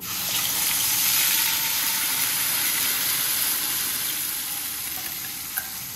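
Finely ground masala paste fries in hot oil with a loud, continuous sizzle and hiss that holds steady and eases slightly toward the end.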